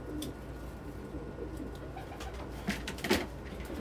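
Pigeons or doves feeding around a spread of feed at a food dish give soft coos and faint calls, mostly quiet with a couple of louder bursts near the end.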